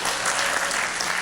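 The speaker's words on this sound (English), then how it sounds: "big round of applause for the volunteers" Short burst of steady applause from an audience clapping for volunteers at a president's address, dense and even throughout.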